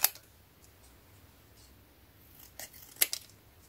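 Paper card being cut with scissors for scrapbooking, a few faint crisp snips and clicks spaced apart in a quiet room.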